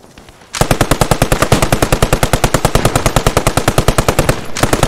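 An M1919A6 machine gun in the video game Post Scriptum fires a long, steady, rapid burst of closely spaced loud shots, heard up close and continuing almost to the end.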